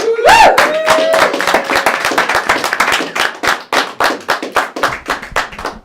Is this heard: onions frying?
no